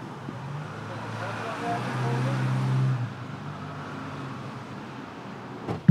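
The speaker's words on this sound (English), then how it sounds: "looks like we got a mail truck coming in." A mail truck drives in at a post office, its engine and road rumble rising as it nears, with someone talking over it and a sharp thump near the end.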